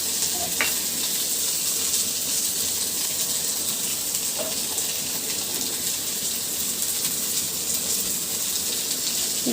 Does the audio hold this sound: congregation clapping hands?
no